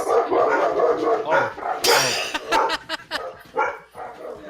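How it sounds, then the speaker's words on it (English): Several dogs bark and yip in agitated bursts, fairly close and loud, with a whimpering edge mixed in. "those dogs are not happy"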